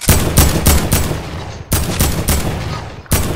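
AK rifle fire in a video game comes in loud, close bursts of rapid automatic shots, several volleys separated by short pauses.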